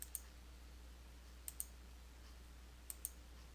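A computer mouse clicks the Next button in QuickBooks Desktop Pro 2020 setup, three quick pairs of faint, close clicks evenly spaced over a near-silent background.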